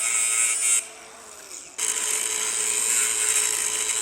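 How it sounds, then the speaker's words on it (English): Welding on the body of a wrecked Volkswagen Atlas: a loud, steady hiss and crackle from close by that breaks off briefly, then resumes and runs evenly to the end, with no talk over it. "let's weld this up real quick"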